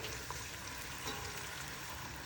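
Onions stir-fry in red palm oil while being prepared for abacha, giving a steady, close hiss and sizzle with faint stirring sounds and no talking.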